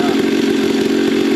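High, steady idle of a Honda CRF250F dirt bike engine, a loud continuous buzzing drone up close with a faint voice mixed in.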